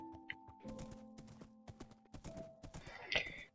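A horse in a video game clops along with quick, uneven hoof beats and a short whinny near the end, mixed with other game sounds.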